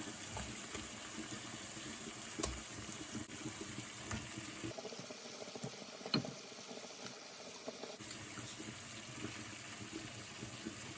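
Prawns drop into a pot of water boiling hard over high heat, giving a quiet, continuous bubbling hiss with soft splashes and a few small knocks. No one speaks.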